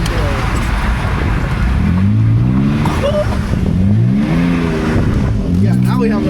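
A BMW E46 drifting on a wet street in the rain, its engine revving and rising in loud repeated swells close by, with tire hiss on wet road beneath and voices talking over it.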